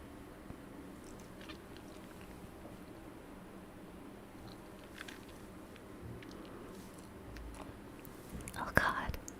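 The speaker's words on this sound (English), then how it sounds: "You guys can hear me swallowing my saliva." Close, intimate mouth sounds of saliva being swallowed during a whispered ASMR stream, faint wet clicks under soft whispering, with one sharper smack near the end.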